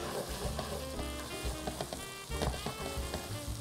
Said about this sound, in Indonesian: Ini semuanya kita tumis, kita aduk-aduk jadi satu sampai dia harum.